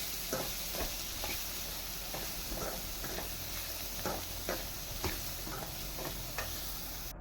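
Steady sizzling of onions frying in oil, with irregular scraping taps from stirring throughout.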